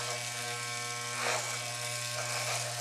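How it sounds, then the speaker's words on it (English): An electric hair clipper fitted with a number 4 guard (1/2 inch, 13 mm) trims a beard, giving a steady close-up buzzing drone that swells slightly at moments as it moves through the hair. "On to the next clipper size, which is going to be a number 4."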